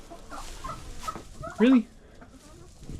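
Chickens and turkeys cluck in a winter coop in Alaska, with a single loud close squawk in the middle, and a person speaks briefly around it.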